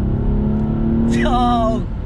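A stock BMW M235i engine revs as the car accelerates, a loud steady drone that rises sharply in pitch partway through and holds a strained, climbing note, heard close up without talk over it.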